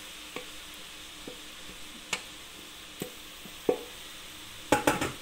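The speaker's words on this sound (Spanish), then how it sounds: "Lo vamos a mezclar con nuestra col y la cebolla que tenemos aquí" Chicken stirred into fried cabbage and onion in a pan, with a spoon scraping and tapping the pan in scattered strokes under a faint sizzle, ending in a quick cluster of louder clinks.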